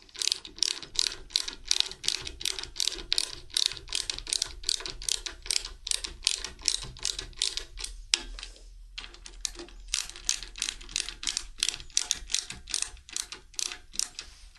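Fast, close ratchet clicks while tightening bolts on an iPad kiosk, rapid bursts of pawl clicking with a brief pause midway, no talk.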